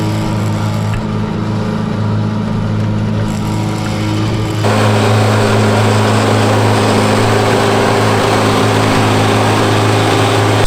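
A Rayco RG55R stump grinder runs steadily while grinding a large stump, its engine drone constant and loud, with the grinding roar thickening and rising partway through and holding to the end.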